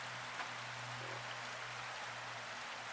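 Steady rain falling on a dreary wet day near a garden pond, a soft continuous hiss spread evenly across the clip with a low hum underneath and no voices.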